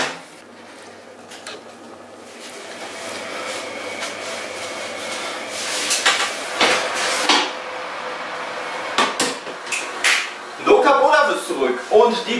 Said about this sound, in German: Die Schokolade geben wir jetzt mit in unsere Schüssel. Das Ganze rühren wir jetzt wieder um.